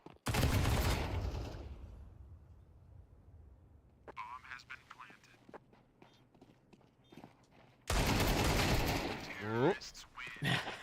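SMG gunfire in a video game esports match at ESL Challenger Melbourne 2024: loud, dense bursts of rapid shots open and close the stretch, with quieter scattered in-game clicks and impacts and commentators talking between them.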